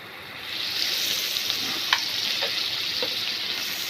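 Mustard leaves with salt and turmeric frying in hot oil. A bright, steady sizzle swells in after a quiet start and holds evenly, dotted with a few small crackles and pops.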